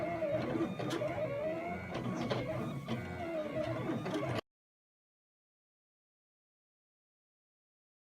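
An electronic cutting machine slices faux leather on a cutting mat, giving a steady close mechanical whir and clatter for about four seconds before going silent.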